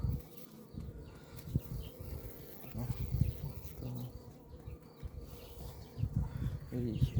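Honey bees swarm and buzz around a hive at an apiary, a dense steady hum that stays close, while someone talks intermittently over it.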